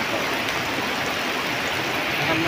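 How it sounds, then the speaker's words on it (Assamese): Steady rain pours down with gusting wind, a broad, constant rushing wash, unbroken for its short length. "তেনেকুৱা বতাহ মাৰিছে দেখিছেনে, বৰষুণো দিছে বতাহো মাৰিছে।"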